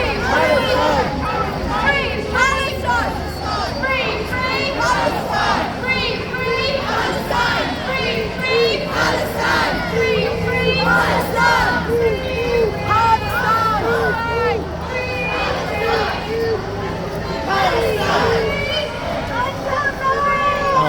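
A huge protest crowd packs Horse Guards in London, a dense, continuous babble of many voices and shouts all around, loud and close, with no single voice standing out.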